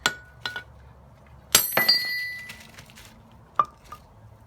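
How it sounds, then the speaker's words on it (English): A chisel chips pieces off material for a tiki wall, giving a few sharp, close clinks and hard taps separated by short quiet gaps, with one brighter ringing strike in the middle. "Insert your chisel, get a couple going, and let's see how this goes."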